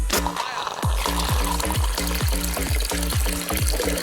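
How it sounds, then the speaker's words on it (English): Real water pours steadily into a miniature toy bathroom in a handmade dollhouse. The gurgle comes with rapid, evenly spaced bubbling pulses, close and loud throughout. "But we can't forget the most important part, real water."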